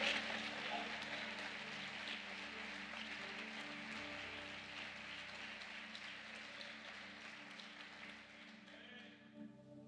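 Crowd applause in a church congregation during a sermon, a dense, sustained wash of clapping filling the whole stretch, with some voices and music underneath, thinning out near the end.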